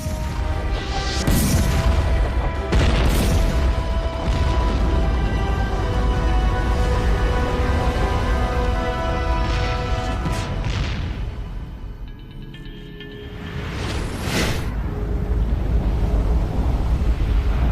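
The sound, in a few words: heavy cannon fire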